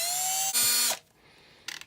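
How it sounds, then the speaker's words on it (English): A regular battery powered drill runs on slow speed, boring a hole in a guitar part: a steady whining motor hum that rises in pitch, cuts off, then a brief final buzz, close and alone. "This is the same size as the hole and a regular battery powered drill. Line this thing up on slow speed."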